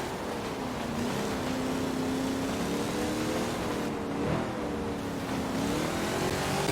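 At a car meet and cruise in Forza, with trucks and muscle cars lined up, a steady engine drone rumbles continuously, its pitch rising and dipping slightly as the cars idle and creep along.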